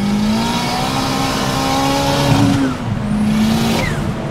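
Citroën Saxo VTS with a turbo conversion of over 500 hp accelerating hard, a loud close engine note climbing steadily in pitch, briefly dipping at a gear change around midway, then pulling strongly again without pause.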